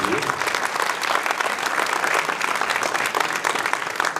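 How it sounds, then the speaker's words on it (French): Dense, loud applause from the audience at a mayor's New Year greetings ceremony in Prats-de-Mollo-la-Preste, welcoming the new retirement home director, sustained and even throughout with no voices over it. "on peut l'applaudir"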